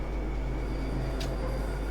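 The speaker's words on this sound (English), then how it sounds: "Here's some slightly more accurate flange," Bakerloo Line train in Train Sim World 2, a steady rolling rumble of wheels with a brief high-pitched flange squeal near the middle, close and continuous.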